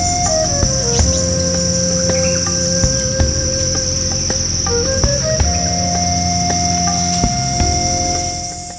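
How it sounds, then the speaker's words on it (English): Crickets chirp steadily through a night forest, a dense, continuous high trill running the whole time alongside other night insects and faint tonal calls, with no talking. "The night belongs to crickets and frogs now"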